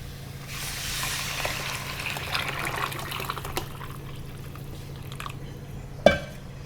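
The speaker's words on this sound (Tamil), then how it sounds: "இப்போ இந்த புளி கரைச்சி வச்சுக்க தண்ணியை அதில் ஊற்றிடும்" Tamarind water pours steadily into a hot pan, hissing and sizzling for several seconds before a sharp clink near the end.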